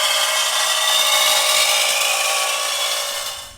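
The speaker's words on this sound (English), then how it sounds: "Now I'm going to cut a piece of this plate off, this 16 gauge off." A piece is cut off a 16 gauge metal plate, making a loud, steady, high-pitched grinding and shrieking noise that runs unbroken for several seconds before easing off at the end.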